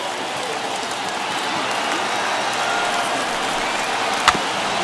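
A stadium crowd of about 22,000 in the MLB The Show 21 baseball video game roars and applauds in a steady, loud wash of cheering, with a single sharp crack near the end.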